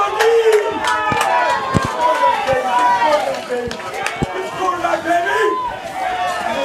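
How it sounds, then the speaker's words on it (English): A high school football crowd roars in the stands on a fourth down, a loud and sustained mass of shouting and cheering, with commentators talking over it throughout. "Crowd is getting fired up."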